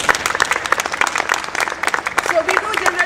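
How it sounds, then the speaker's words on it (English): A live comedy show audience applauds its performers with quick, crisp clapping over about three seconds. Voices talk over the clapping, stronger toward the end. "So let's have a round of applause for them."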